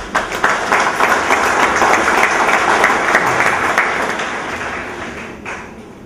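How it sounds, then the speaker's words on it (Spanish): Loud, dense audience applause filling the room, holding steady for several seconds before fading slightly, with no speech over it. "Aplausos, por favor."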